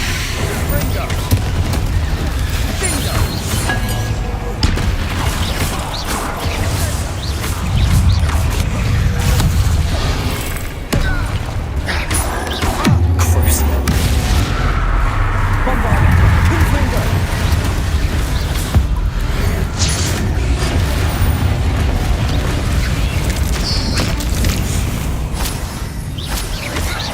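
Confringo and Bombarda spells explode again and again in Hogwarts Legacy combat, dense booming blasts layered with fight effects and background music filling the whole stretch, with a player shouting spell names over the din.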